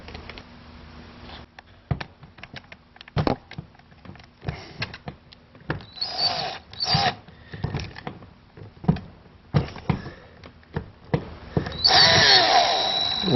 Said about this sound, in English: drill attachment and take those screws out.